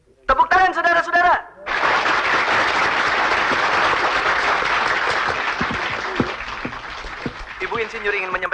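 An audience at a festive gathering claps loudly and steadily for several seconds after a brief spoken introduction, with voices returning as the applause fades.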